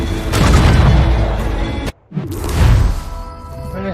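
Naval cannons fire in Assassin's Creed Rogue, heavy rolling booms that rumble loudly, a sudden near-silent gap, then another thunderous salvo that fades.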